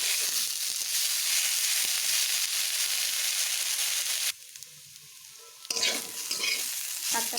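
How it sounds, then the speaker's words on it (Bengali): Potatoes and helencha greens fry in a pan with a loud, steady sizzle and stirring scrapes, dropping to quieter crackle briefly before the strong sizzle returns; no voices. "এই শাকটাকে আর আলুটাকে আমি একসঙ্গে এবার ভেজে দেবো"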